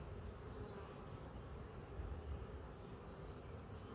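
Angry bees swarm around a hot-weather beehive during a queen cell check, making a dense, continuous buzzing drone that stays close and steady with no voices.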